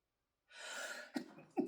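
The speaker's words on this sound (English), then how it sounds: "I feel like I gotta sneeze." A single close sneeze, soft and breathy: a rising intake of breath, then two short sharp bursts at the end, quiet overall.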